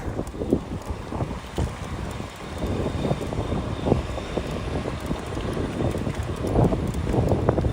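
Strong wind buffets the microphone while riding a bike around Jamaica Bay in New York City, a rough, gusty rumble that swells and dips continuously throughout with no speech.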